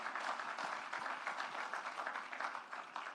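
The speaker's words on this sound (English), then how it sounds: "Round of applause for..." An audience at an investment and capital markets conference applauds Michael Kopp, a dense, even wash of many hands clapping that holds steady throughout.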